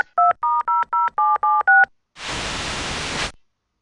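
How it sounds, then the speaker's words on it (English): Telephone keypad tones from The Pandora Directive video game: eight quick, evenly spaced dialing beeps, then a burst of hissing static lasting just over a second before silence. "So I better call him back and see what I can do."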